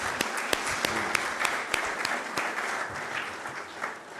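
A large audience claps steadily after the national anthem is sung at a public event, with dense sustained applause and a few sharp individual claps standing out throughout.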